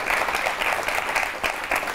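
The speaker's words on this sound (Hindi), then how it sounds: "एक बार जोरदार तालियां इन तमाम लोगों के लिए हो जाएं।" A studio audience on a Hindi television talk show claps loudly and continuously, a dense, close wash of hands with no pause.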